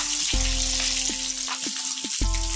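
Seer fish frying in a pan of oil, a loud, steady hiss of sizzling up close, broken by a few dull knocks and pauses as the pieces are turned.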